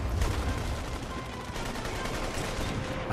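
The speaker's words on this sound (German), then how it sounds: "Scheiße, Schüsse!" Dense, continuous gunfire and automatic-weapon bursts from The Saboteur video game, loud and close, with steady rattling volleys running through the whole stretch and no voices over them.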